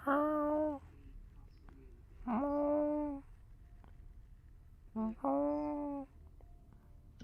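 A voice imitates a distant dying cat: three drawn-out, wavering meow-like wails separated by short pauses over a low background hum.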